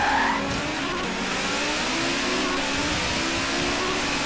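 The turbocharged engine of an Audi Sport Quattro in Forza Horizon 3 revs hard and steadily, a loud, close, continuous drone with turbo whine and faint tyre noise.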